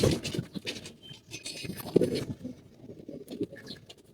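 Pigeons, female birds about to be released for flight, shuffle and coo softly nearby, with scratching and fluttering movements in short bursts.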